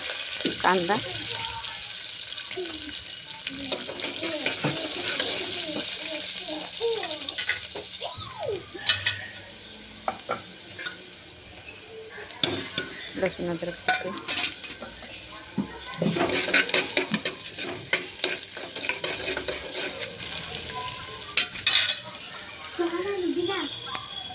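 Mustard, chili and curry leaves sizzling in a tempering for dal khichdi, a soft steady fry overlaid with scattered clinks and scrapes of stirring, with people talking throughout.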